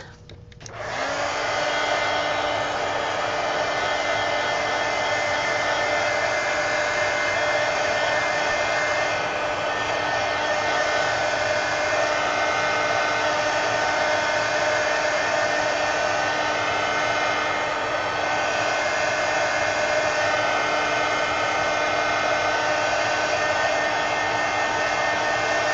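A hair dryer blowing to dry paint on a Halloween sketch, switched on abruptly and then running at a loud, unbroken whine and rush of air for the whole stretch, with no talking.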